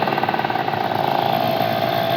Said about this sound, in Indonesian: Cuman knalpot doang gue ganti yang racing.